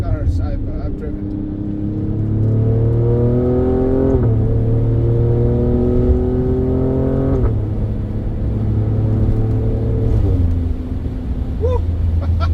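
Twin-turbo car engine accelerating hard through several gears, each pull rising in pitch before dropping at a shift, loud and close, with a person's excited voice briefly audible.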